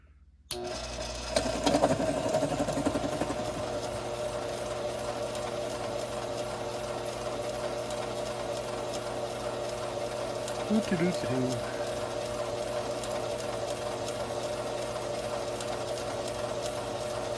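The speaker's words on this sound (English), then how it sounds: "Carbide cutters are worth their weight in gold when you've got a lot of trimming to do" A carbide cutter trims 45 Colt brass cases in a steady, continuous mechanical whir that runs nearly the whole time at an even, moderate level, with a brief clatter early on.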